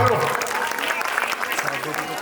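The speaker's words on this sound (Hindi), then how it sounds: "तालियां मारा करो" Audience clapping at an open-air Ramlila drama night staging the slaying of Tadaka and Sita's swayamvar, a dense, steady patter of many hands that carries on throughout, with faint tonal sounds underneath.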